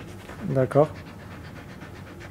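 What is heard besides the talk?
police detection dog panting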